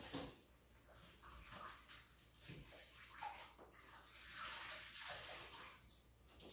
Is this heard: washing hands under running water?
yes